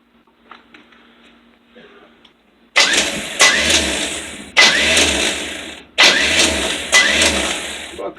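A 20-year-old van engine is started on the first attempt: faint background noise gives way to three loud bursts of starter cranking and engine roar, each breaking off in turn, close by and with no talk over it.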